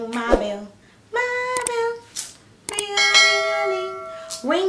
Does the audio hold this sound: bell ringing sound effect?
yes